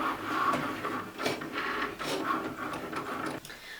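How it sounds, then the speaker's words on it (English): A Cricut cutting machine working an infusible ink transfer sheet, its carriage whirring and ticking in uneven mechanical pulses, close and steady with brief pauses, no talking. "Okay, my cut has finished,"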